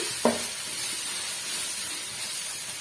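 Onion, tomato, ginger and garlic fry in a pan with a steady, even sizzle and hiss throughout, beginning with a single brief clink of a utensil, close and moderately loud.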